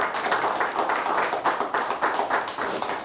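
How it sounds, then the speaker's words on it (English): Studio audience applause for a student quiz team on a high school quiz show, a steady rattle of clapping with rhythmic swells, fairly close and filling the whole moment with no talk over it. "Let's give them a nice round of applause."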